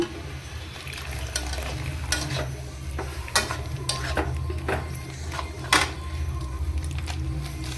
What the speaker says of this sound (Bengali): এবারে এতে আমি দুধটা দিয়ে দিলাম